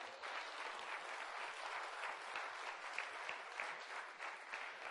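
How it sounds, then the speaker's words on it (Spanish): A church congregation applauds steadily for about five seconds, a dense, even wash of many hands clapping together at moderate volume with no voices standing out. "Denles aplauso al Señor."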